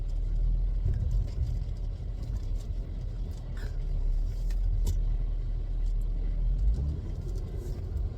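A car is driven along a road, heard from inside as a steady low rumble of engine and tyre noise with faint rattles and no talking.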